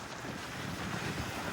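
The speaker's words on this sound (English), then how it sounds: "it is howling wind" Strong wind howls at a harbor, a loud continuous roar buffeting the microphone for the whole moment, with a wash like rough water beneath it and no voices.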